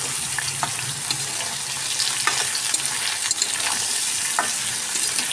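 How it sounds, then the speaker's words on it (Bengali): Pointed gourd and potato fry together in a pan with a steady, moderate sizzle, broken by occasional scraping stirs and small pops, with no speech. "তো পটল আর আলুটা একসঙ্গে আমি ভালো করে ভেজে নেব।"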